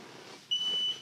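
An Osaki Pinnacle massage chair gives a single high electronic beep that rings steadily for a short moment, fairly faint, against a quiet background.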